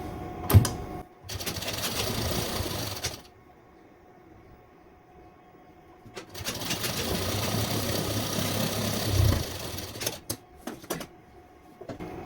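A sewing machine stitches suit fabric in two long runs, its motor whirring steadily for a few seconds each time. A quiet pause separates the runs, and short clicks and handling noises come before and after them.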